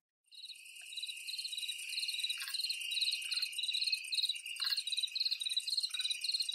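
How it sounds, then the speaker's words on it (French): A countryside night ambience played from a smart speaker, with dense, steady cricket chirping pulsing rhythmically and evenly throughout, fairly quiet and alone with no talk. "C'est le bruit d'une nuit à la campagne."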